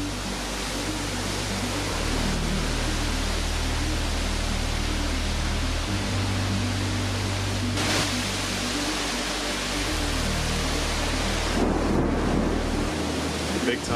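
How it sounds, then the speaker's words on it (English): Strong thunderstorm outflow winds from an approaching downdraft roar as a constant loud broadband rush with heavy low buffeting against the microphone, steady throughout with slight surges near the end. "strong outflow winds ensue as the storm's downdraft approaches."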